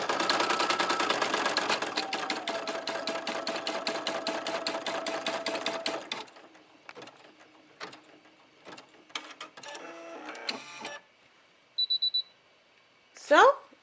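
A Brother PE 770 embroidery machine stitches with a rapid, even mechanical clatter for several seconds, then falls quiet apart from a few clicks before a short series of beeps signals the finished design.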